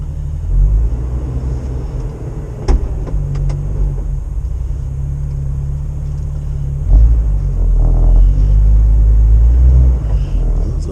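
Idling engine of a Jeep TJ with locked-up brakes, a steady low rumble close by, swelling louder in the last few seconds, with a few faint clicks and knocks over it.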